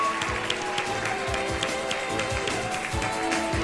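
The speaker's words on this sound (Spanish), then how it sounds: "¡Fuerte el aplauso!" An audience applauds a winner being announced at an awards-style event, dense rapid clapping with scattered thumps and crowd noise throughout, fairly distant and even.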